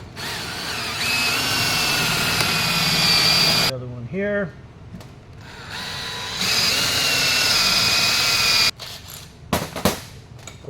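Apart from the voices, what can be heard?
power drill drilling 3/4 inch holes in deck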